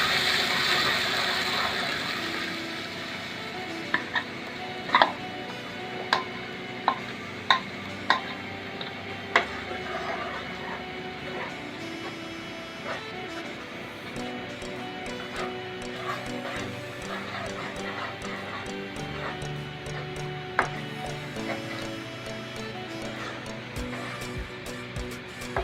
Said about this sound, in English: Keep on stirring it